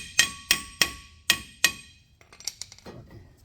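Five loud, ringing hammer blows strike a stuck brake rotor at an even pace, followed by softer clinks and rattles of metal.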